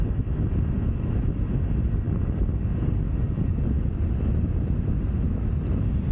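Honda Navi scooter cruising at 40 mph, engine near 6,400 RPM, a steady loud drone blended with heavy wind rush, constant throughout with no talk.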